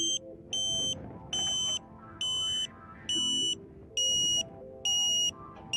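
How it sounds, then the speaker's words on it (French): Tooway KA-SAT satellite dish pointing tone, an ambulance-like beeping: a loud high electronic beep repeating about every 0.9 seconds, each lasting half a second, over faint low background noise. "Vous entendez une nouvelle fois la tonalité d'ambulance."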